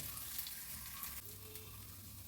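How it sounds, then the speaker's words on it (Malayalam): Ginger garlic paste sizzles in a pan while browning for a capsicum curry, a soft, steady frying hiss throughout, fairly quiet with no voices. "ഇഞ്ചിയും വെളുത്തുള്ളി പേസ്റ്റാണത്. ഒന്ന് മൂത്ത് വരട്ടെ."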